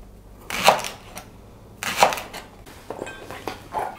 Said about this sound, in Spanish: Cortaremos en primer lugar la zanahoria y el puerro en discos.